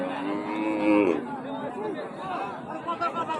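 A cow lets out a loud moo at the Raniganj cattle market, with a long low bellow early on and steady crowd chatter and nearby talking throughout.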